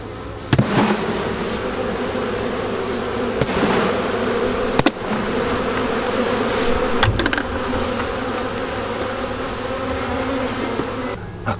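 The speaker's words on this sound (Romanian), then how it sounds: "Și asta plină cu albinul." Honeybees buzz steadily around an open hive frame in an apiary, a dense continuous drone close to the microphone, punctuated by a few sharp knocks and clicks, with no talk.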